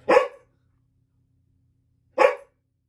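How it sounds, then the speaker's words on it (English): A dog barks twice, nearby and sharp, with about two seconds of near silence and a faint low hum between the two barks. "There was some dogs barking, and I don't know why."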